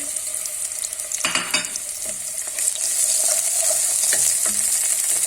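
Chopped onions hit about five tablespoons of hot cooking oil in a pot with a sudden loud sizzle, followed by stirring scrapes and a steady, crackling fry that continues to the end.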